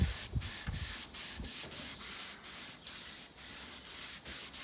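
A brush stroking wood stain along a wooden stair handrail, giving a steady series of soft rhythmic rubbing swishes, close and quiet, with no talking.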